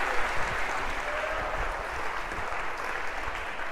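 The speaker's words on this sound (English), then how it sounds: "A round of applause for our first volunteer." A lecture-hall audience claps for a volunteer, a dense, steady round of applause from many hands that stays even and fairly loud throughout, with no talking over it.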